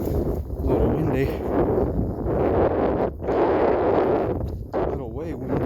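Strong wind buffets an outdoor microphone beside a railway while someone waits for a train, loud roaring gusts that swell and drop in waves, with a voice talking intermittently.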